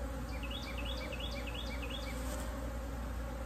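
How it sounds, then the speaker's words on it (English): A low constant buzz of honey bees in a hive during a winter inspection hums steadily, with faint chirping notes drifting over it, quiet and continuous without any talking. "And I got 10 frames of bees here."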